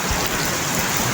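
Rain driven by strong wind in East Java, a steady, fairly loud hiss of downpour with gusty low rumbling underneath, continuous and close, with nobody talking.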